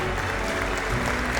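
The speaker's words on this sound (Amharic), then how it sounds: "አንድ የሞቅ ያለ ጭብጨባ በድጋሚ" Warm, sustained applause from a crowd at a university graduation ceremony, a dense, even clatter of many hands clapping continuously throughout.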